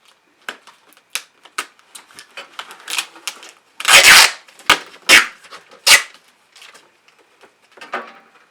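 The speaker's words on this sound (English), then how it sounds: "I don't care how many tapes that I'm using" Packing tape pulled off the roll and pressed onto a homemade shipping box built from mixed cardboard for mailing boots, heard as irregular crackly rips and slaps, with a long loud tearing burst in the middle and shorter strips after it, no speech.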